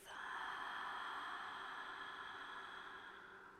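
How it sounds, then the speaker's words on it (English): A long, warm exhale out through the mouth during a Pilates breathing practice: one steady, breathy rush of air lasting over three seconds, close and fairly loud, easing off slightly toward the end. "And take a long, warm exhale out through your mouth."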